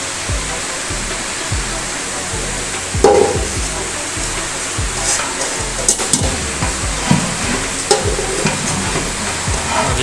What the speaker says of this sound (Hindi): अभी आहिस्ता आहिस्ता इसको हम लोग मिक्स करेंगे इसमें ताकि हर जगह मिक्स हो जाए सुकून से